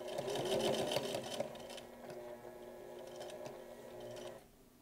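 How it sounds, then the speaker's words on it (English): A sewing machine stitches the final seam to close a toiletry bag through its lining, giving a steady, close mechanical whir that runs nearly the whole time and then stops just before the end. "And now stitch this whole mess closed."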